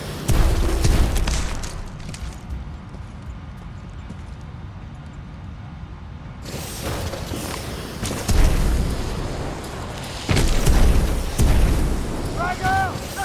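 A grenade explosion in the video game Titanfall 2, a low booming blast among ongoing battle noise, followed by further heavy thuds and voices shouting in the background.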